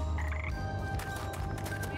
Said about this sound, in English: Hello, frog.